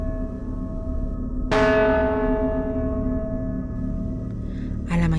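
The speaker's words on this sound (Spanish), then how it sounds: "las campanas sonaron con más fuerza" A church tower's bells strike once loudly and ring out in a long, shimmering decay that fills the remaining seconds. Faint background noise lies beneath, and a short sound breaks in near the end.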